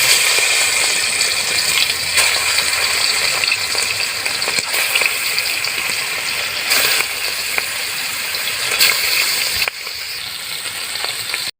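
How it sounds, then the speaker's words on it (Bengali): Loud, steady crackling sizzle of snakehead fish frying in hot oil in a wok, close and continuous, with occasional scraping from a utensil. "এবার আমি মাছগুলো দিয়ে দেবো।"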